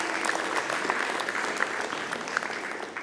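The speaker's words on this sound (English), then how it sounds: "let's give them a round of applause as well" Congregation at a live-streamed Sunday service giving a round of applause, steady dense clapping at moderate level throughout, with a faint tone early on.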